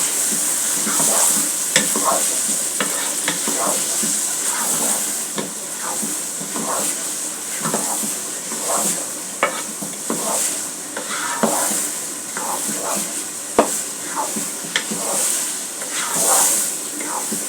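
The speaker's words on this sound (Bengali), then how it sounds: "ডালগুলো ঢেলে দেবো। দিয়ে ভালো করে নেড়ে দেবো।" Boiled lentils being stirred into a frying pot for bhuna khichuri, a constant close sizzle broken by repeated spoon scrapes against the pot in an uneven rhythm, with faint speech now and then.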